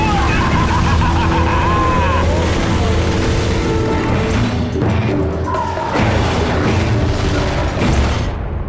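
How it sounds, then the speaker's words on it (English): Bombs dropped and exploding in the Mercenaries 2: World in Flames video game, a dense barrage of loud booming blasts and crashes over engine rumble, with voices talking over the action. "And drop bombs. Big ones and lots of them. Bombs away!"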